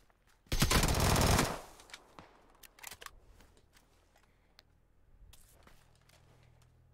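Automatic gunfire in PUBG on the Sanhok map, one loud sustained burst of rapid shots up close, then scattered quieter single shots and clicks.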